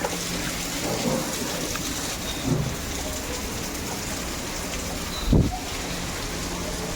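Steady heavy rain pours down with a constant hiss, broken by a couple of brief low rumbles of thunder.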